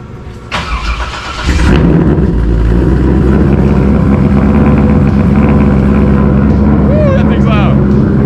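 A Nissan 350Z engine cranks and catches, then settles into a loud, rumbling idle with revs, close to the microphone; brief voices are heard near the start.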